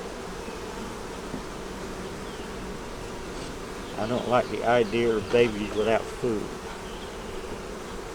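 Honeybees buzz steadily at a hive as they festoon on foundation, a constant droning hum throughout, with someone talking briefly midway over the buzzing.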